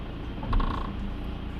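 Brief mechanical knock and creak from the driveshaft of a 1.9 TDI VW Transporter T5 Kombi moving in reverse, one short thud with a metallic squeak against a steady low engine drone, no voices.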